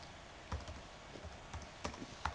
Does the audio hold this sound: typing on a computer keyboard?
yes